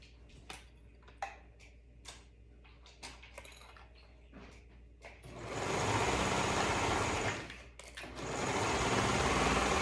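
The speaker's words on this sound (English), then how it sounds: "we're going to sew to attach those cuffs to the sleeve" A sewing machine stitches a cuff onto a sleeve: first a run of small clicks and taps as the fabric is positioned, then two long, loud bursts of steady whirring stitching with a short pause between, no voices.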